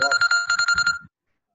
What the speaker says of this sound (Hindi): ये किसी का फोन किसी का फोन बेटा please keep it on mute